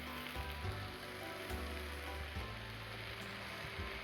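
Raw mango pieces fry in hot oil as sugar is stirred in for a morabba, a soft continuous sizzle running quietly under steady background music.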